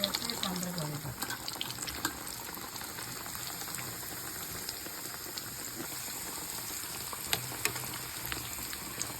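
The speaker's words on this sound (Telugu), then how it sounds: "పూరి పిండిలో ఒత్తికిని మనం కాగి ఆయిల్లో వేసుకోవడమే బాండీలో." Pooris fry in hot oil in a large kadai, giving a dense, continuous bubbling hiss that stays fairly even throughout, with occasional louder pops and sharp clicks.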